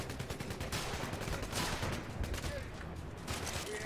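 Sustained gunfire rattling in the shooter video game 007 Legends as the player character takes hits, a dense continuous fusillade with faint voice chatter mixed underneath.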